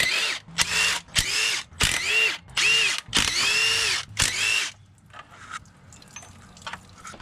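Power tool spinning out 10mm and 13mm water pump bolts on a V6 Holden Commodore, heard as several loud, close whirring bursts of varying length, followed by quieter clinks and handling noises.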